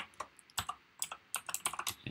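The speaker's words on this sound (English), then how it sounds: "I'm going to print it back out to the page by typing alert" Code is typed on a computer keyboard in quick, irregular bursts of close, crisp key clicks, with short pauses between clusters and no voices.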